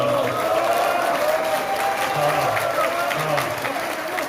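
Applause from an audience at a church assembly debating a constitutional amendment, a steady broadband patter of clapping throughout with voices audible beneath it.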